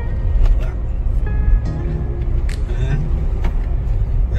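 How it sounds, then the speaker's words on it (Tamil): A car grinds up a steep uphill road, its engine a steady low rumble throughout with a few brief knocks and rattles riding on top; voices talk over it. "எவ்வளோ பெரிய ஏற்றம். நம்ம வண்டி புஸ்குன்னு ஏற போகுது"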